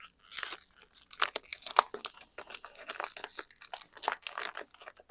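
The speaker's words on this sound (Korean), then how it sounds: "비닐 포장지도 얇은 철사로 꽉 묶어줍니다" Plastic wrapping on a single carnation crinkles and crackles as it is bound tightly with thin wire. A close, busy stream of sharp rustles and crunches plays throughout with no talk.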